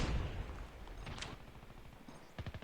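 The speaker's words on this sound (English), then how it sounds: "Looks like they're having a little gunfire there on raid." Rapid bursts of gunfire in a Call of Duty Mobile pro league playoff match, heard at a distance and fairly faint, with a couple of sharper volleys standing out.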